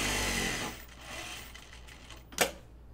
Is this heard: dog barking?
no